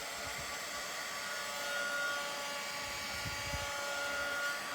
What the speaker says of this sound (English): if I had a bigger hair dryer, we'd be okay